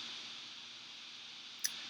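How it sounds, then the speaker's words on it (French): A single soft computer mouse click lands near the end of a quiet stretch with a faint background hiss. "Je vais cliquer sur Press Pull."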